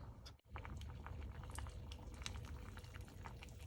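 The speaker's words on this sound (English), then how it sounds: "And I just let it simmer." Coconut milk fish soup simmers in a pot, a steady soft bubbling with small pops and patters, fairly quiet and continuous.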